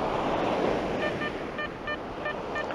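Sea waves wash onto the shore of a beach in a steady close rushing wash, with faint metallic beeps from a metal detector in the background.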